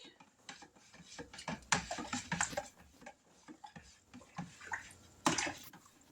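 Sweet tea mixture being stirred in a container, with irregular liquid swishes and light clinks of a utensil against the sides, soft and close with no talking.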